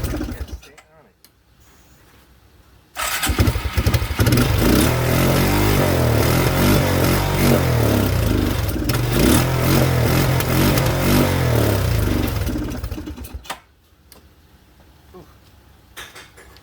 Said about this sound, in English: Once you get it started, keep giving it some gas, okay?